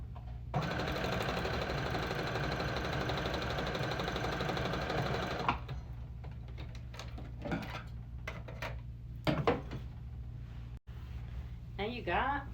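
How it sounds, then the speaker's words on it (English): A sewing machine stitches bandana fabric in a steady, fast mechanical whir for about five seconds, close and continuous, then stops, followed by scattered clicks and handling noises with a few soft spoken bits. "I am using a sewing machine."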